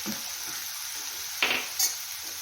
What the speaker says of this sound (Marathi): कांदा टाकून झालेला आहे फिरवून घेऊया थोडंसं